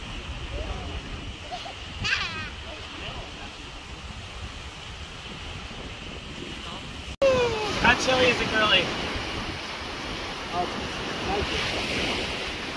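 Ocean surf rolls and washes up onto a beach under steady wind noise, with a louder swell arriving midway; several people talk and exclaim throughout.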